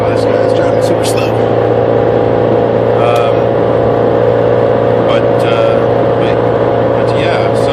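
Car driving on a road, a constant loud engine drone and road rumble inside the vehicle with a steady low hum, with a person talking continuously over it.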